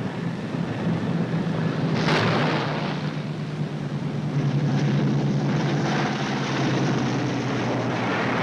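A damaged warplane comes in to land, its engines droning steadily and loudly, with a sharp crackling burst early on and a rough, roaring wash throughout.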